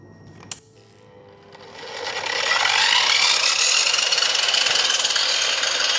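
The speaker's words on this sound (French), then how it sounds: "débutons avec le moteur à collecteur classique" A click, then the brushed electric motor of a miter saw spins up over a couple of seconds into a loud, steady high-pitched whine that continues to the end.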